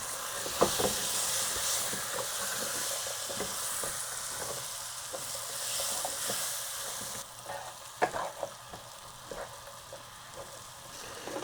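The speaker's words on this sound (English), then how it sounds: "Now it's a time also just add the fava, also just to turn around for a couple minutes with the fava bean." Fava beans frying with turmeric in a pot for Dampokhtak rice make a steady, close sizzle and hiss, broken by occasional scraping stirs of the spoon.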